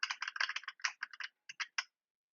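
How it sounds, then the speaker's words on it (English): Keys pressed on a computer keyboard during a vim editing session, a quick run of close, crisp clicks followed by a few spaced taps before silence. "I'm going to press the letter U on the keyboard"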